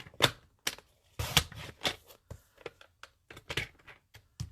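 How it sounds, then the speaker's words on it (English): Stacked 4-inch paper strips sliced on a paper trimmer for stepped-up cards, a series of sharp crisp cuts and shuffles in an irregular rhythm, close and alone. "I'm going to pile up those 4-inch strips, and I am going to cut at 3"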